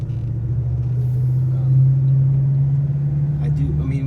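A 2014 Ford Mustang GT with Coyote 5.0 V8, L&M intake cams and an X pipe, a steady deep exhaust rumble that holds throughout, rising slightly midway, with faint talk near the end.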